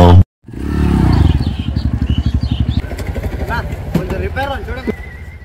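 A motorcycle engine runs close by in a garage, starting with a rough burst and settling into a steady, pulsing idle with throttle blips, while people talk over it.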